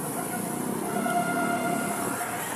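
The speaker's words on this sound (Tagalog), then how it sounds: "Oh, tren. Hindi ako magte-tren. Oh, LRT yan." An LRT train passes at a city street, a steady broadband rumble of rail noise with faint whining tones, heard continuously throughout.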